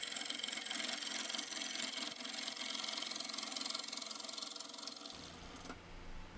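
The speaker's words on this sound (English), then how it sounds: "Using the Carter & Son bowl gouge to continue on here to try to true up this cherry log." A wood lathe spins a cracked cherry log as a Carter & Son bowl gouge cuts it true, giving a steady whirring drone with rough, continuous cutting noise that suddenly stops near the end, leaving a quieter low hum.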